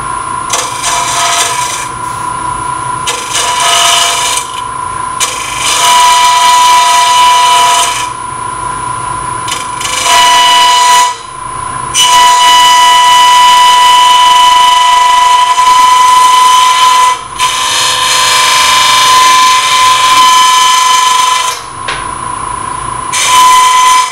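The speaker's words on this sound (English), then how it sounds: "So I'm going to make very light cuts with the gouge." A gouge makes very light cuts on an open segmented wood turning spinning on a lathe, giving a loud, steady rasping hiss that breaks off briefly several times and then resumes.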